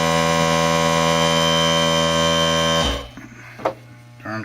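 An air compressor under a blanket drones as a steady, loud buzzing hum for about three seconds, then cuts off, leaving faint knocks and rustles.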